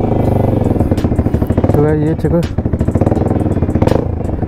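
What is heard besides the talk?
Bajaj Pulsar NS200 motorcycle with Akrapovic exhaust, engine sound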